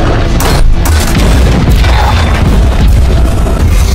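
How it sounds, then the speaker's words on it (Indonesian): Loud, continuous heavy booming and rumbling as two tanks exchange cannon fire in a war film, blasts blurring together into a dense roar of gunfire. "sehingga adu tembakan munisi pun tak terhindarkan lagi"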